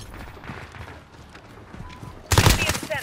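Gunfire in the video game Call of Duty: Modern Warfare during a kill confirmed match: a sudden loud, close burst of rapid shots erupts after a quieter stretch of faint game ambience and muffled speech.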